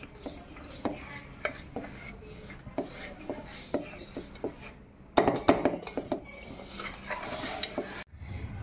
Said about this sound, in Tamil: இப்போ இது எல்லாத்தையும் நம்ம ஒன்றா நல்லா கலந்து விட்டுக்கலாம்.